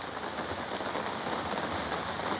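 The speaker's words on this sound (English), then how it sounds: "I love the sound of falling rain." Heavy rain pours outside a bar in Eindhoven, a dense, steady hiss of drops pattering on surfaces, continuous and fairly close, with no voices.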